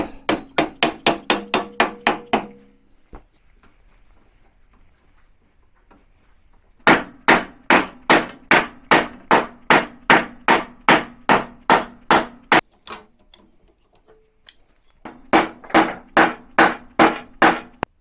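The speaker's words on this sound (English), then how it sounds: "Use soft mallet, give it a whack." A soft mallet striking a VW Beetle spring plate fitted with urethane bushes, with a long series of loud, close, evenly spaced whacks in three bursts separated by quiet pauses and no talk.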